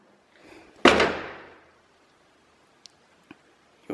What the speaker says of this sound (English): When you close the door right,